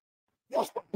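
A single short sneeze, close and fairly quiet, with one sharp burst followed by two brief trailing sounds.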